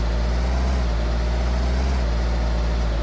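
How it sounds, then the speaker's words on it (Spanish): A car engine in the video game RoadZ The Last Drive rumbles continuously, a loud, dense, low droning hum with steady noise, close and unbroken for the whole stretch without speech. "Y ya este coche tiene sonido y todo."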